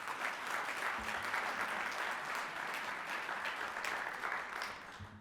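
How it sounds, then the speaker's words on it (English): Audience applause at an innovation summit pitch contest, a sustained wash of many hands clapping for several seconds at moderate, fairly distant level, with a brief voice near the end. "Please give these businesses a round of applause."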